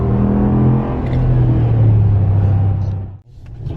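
A Ram Rebel pickup truck's engine revs hard in two-wheel drive while drifting on loose ground, a loud sustained rumble that rises and holds, then briefly cuts out near the end before picking back up.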